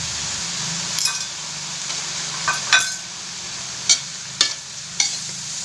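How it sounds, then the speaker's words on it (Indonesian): Genjer (gendot) flowers are stir-fried in a pan with a pinch of MSG: a steady, close sizzle runs throughout, broken by several sharp clinks of a utensil against the pan, with no talking. "Kita nggak perlu lama-lama menumis ya"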